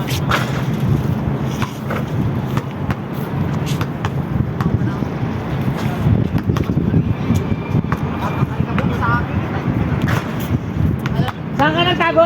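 Strong sandstorm wind roars close and steady throughout, a dense broadband rush with gusty buffeting, while people talk and shout over it.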